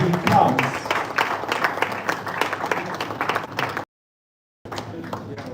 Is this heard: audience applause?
yes